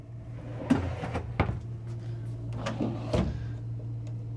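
Deep storage drawers beneath the TV in a 2026 Newmar Grand Star 3444 Super C motorhome, sliding and knocking shut in several distinct thumps and clacks over a low steady hum.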